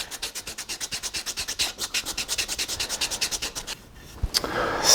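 A wooden neck-through guitar body being hand sanded, producing a fast, even rhythm of close, scratchy back-and-forth strokes that pause briefly near the end before a final rub.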